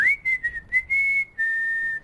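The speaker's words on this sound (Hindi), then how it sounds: "अरे सीटी मत मारो यार" A single person whistles a few short, high, clear notes in broken bursts, then holds one long steady tone, close and fairly loud with nothing else around it.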